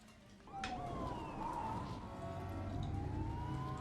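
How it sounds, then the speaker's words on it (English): A siren wails in the distance, its pitch sweeping up and down, layered with a second faint siren over low traffic rumble, from police cars and a fire engine. "So a couple of police cars, a fire engine, and a SWAT team."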